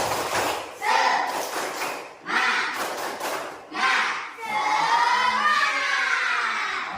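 A group in an Indonesian coding and AI training class performs a rhythmic 'tepuk semangat' spirit clap, with bursts of patterned clapping and shouting voices between short pauses.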